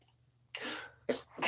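A person sneezes close to the microphone in a series of sharp, explosive bursts with short pauses between them against an otherwise quiet room.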